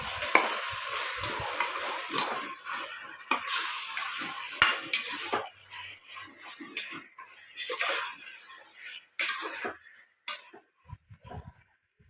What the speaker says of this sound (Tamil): இதெல்லாம் ஒன்றா மிக்ஸ் பண்ணிக்கலாம்